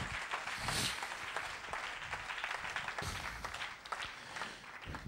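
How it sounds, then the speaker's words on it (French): A church congregation applauds together, a dense wash of clapping hands filling the room steadily throughout, fairly far and diffuse with faint voices mixed in. "Applaudissons le Seigneur Jésus"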